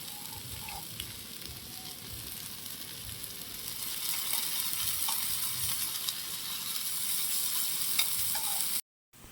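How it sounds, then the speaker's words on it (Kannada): Elephant foot yam slices fry in oil on a tawa, giving a steady close sizzle with faint crackles that grows a little louder midway before a brief cut near the end. "ತವಾ ಫ್ರೈ ಸುವರ್ಣ ಗೆಡ್ಡೆದು."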